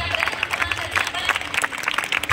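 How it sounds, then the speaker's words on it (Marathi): A crowd claps at a hackathon results ceremony for district council schools. Dense, lively applause fills the short burst, with voices mixed in. "जोरात टाळ्या वाजवून"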